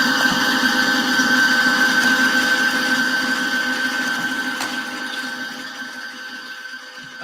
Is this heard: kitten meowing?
no